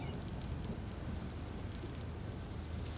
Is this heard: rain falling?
yes